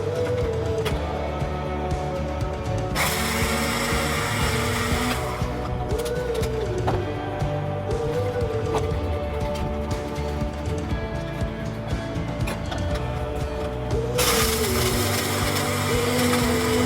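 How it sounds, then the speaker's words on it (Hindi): An electric spice grinder whirring loudly as it grinds nutmeg and mace for homemade garam masala, running in several sustained bursts with brief changes in pitch and a few pauses, close and steady throughout. "हम जायफल और जावित्री को पीसेंगे ग्राइंडर में"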